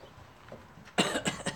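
A single person's cough, sharp and close, a short burst of two or three harsh exhalations after a second of quiet room noise.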